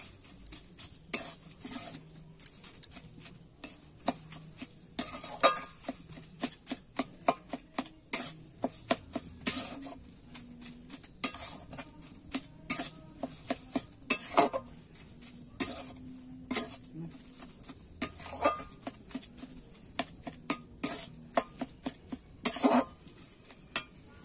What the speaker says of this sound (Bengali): আমি তো পানি ফলটা একটু কড়াইতে দিয়ে নেড়ে চেড়ে নিয়েছি।